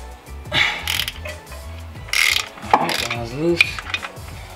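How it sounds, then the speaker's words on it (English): A half inch drive ratchet wrench removes bolts during a Nissan 350Z clutch and flywheel installation, giving several close bursts of rapid ratcheting clicks separated by short pauses, with a voice briefly audible between them. "I got another one, but it's in a half inch drive, so I gotta I got the big boy wrench."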